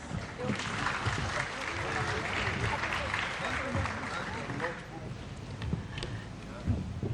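Applause from an audience at the closing ceremony of the 57th AFRAA Annual General Assembly, a steady wash of clapping lasting several seconds, with voices and crowd murmur mixed in.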